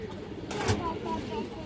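Muslodom pigeons of an old high-flying bloodline coo softly and continuously at close range, low murmuring calls with a brief brighter burst in the middle.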